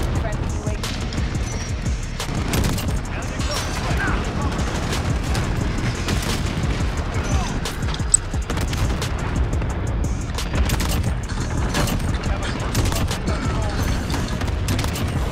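Rapid gunfire and explosions from a Modern Warfare multiplayer match, dense bursts of shots and booms throughout, with a player talking over the noise.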